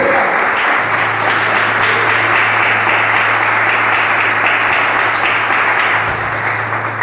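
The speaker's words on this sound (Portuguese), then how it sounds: "Vamos aplaudir Jesus? Bem forte para Jesus." A Pentecostal church congregation claps hard and continuously, a dense, loud wash of applause filling the room without a break, with a steady low hum running underneath.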